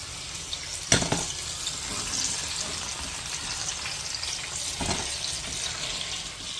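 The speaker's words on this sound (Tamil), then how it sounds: "இதே மாதிரி எல்லா கொழக்கட்டையும் பொரிச்சு எடுத்துக்கலாம்." Kozhukattai dumplings deep fry in hot oil, a soft, steady bubbling sizzle with a couple of sharp clinks or splashes from handling.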